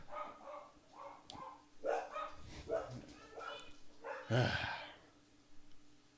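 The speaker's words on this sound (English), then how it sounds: "The dog's barking?" A dog barks repeatedly in short, yappy bursts at a moderate distance, some yips and whimper-like notes mixed in, with people talking over it in the room.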